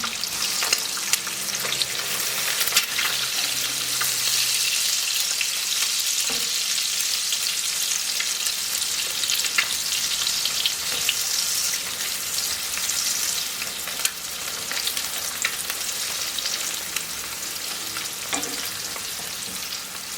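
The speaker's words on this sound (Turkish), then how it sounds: "kızartıyoruz zaten." Steady, loud sizzling of food frying in a hot pan, with occasional clinks and scrapes as it is stirred, no voices.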